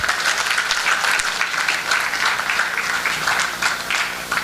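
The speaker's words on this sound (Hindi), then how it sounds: "इनके लिए एक ताली होना चाहिए" An audience breaks into steady, even applause, many hands clapping together at close range for a few seconds without speech.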